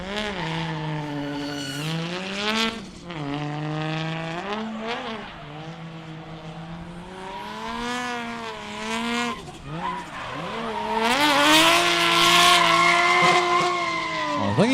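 A drift car at Meremere Drift Park screams through a run, its engine note rising and falling in long sweeps with bursts of tire squeal, growing louder near the end, heard at a distance.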